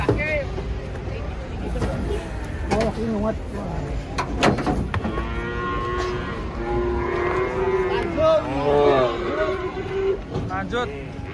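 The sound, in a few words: cattle being unloaded from a truck, mooing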